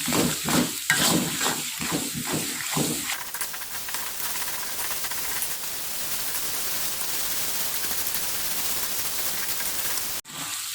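Kaffir lime leaves and a stalk of lemongrass sauté in a hot pan: a few quick rhythmic stirring scrapes open, then a steady, loud hissing sizzle carries on alone until a sharp knock near the end.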